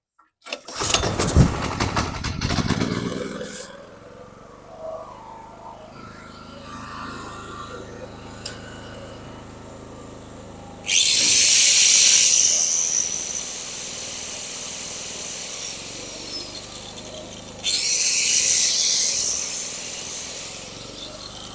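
A small petrol generator engine, recently cleaned after petrol contaminated with water and dirt, sputters briefly, then runs steadily at moderate loudness, with two bursts of louder high-pitched revving or hissing later on.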